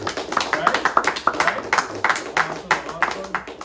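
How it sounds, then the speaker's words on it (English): A small group claps at the close of a podcast interview, a loose patter of individual hand claps with light chatter and voices mixed in. "we want to make sure you get a round of applause to all of you"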